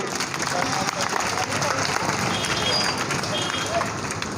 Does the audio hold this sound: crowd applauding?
yes